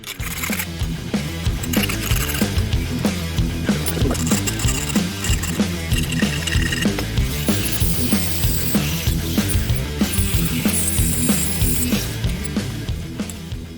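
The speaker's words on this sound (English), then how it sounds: "I'm going to see if I can just file a little notch right here and kind of bend it and break it off." A metal file steadily rasps a notch into a Pro Boat Recoil 2 turn fin, giving a close, rhythmic scraping of many even strokes with no speech.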